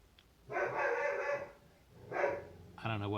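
A dog barks in a few loud bursts close by, two longer harsh stretches followed by a short sharp yelp, with a voice briefly heard near the end.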